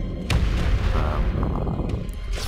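Dense, rumbling booms from missile launches and explosions in Space Engineers fill the whole moment, loud and overlapping with a few sharper pops on top.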